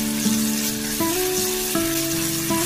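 Diced meat and onion stir-frying in hot oil, a steady loud sizzle with a few sharper bursts as the ingredients are tossed, close and with no voices.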